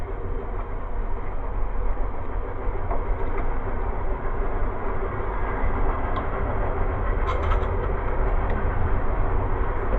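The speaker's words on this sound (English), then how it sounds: "There goes the train." A train passes close by a house, heard through an open back door as a steady, loud rumble with faint clattering that holds for the whole stretch without letting up.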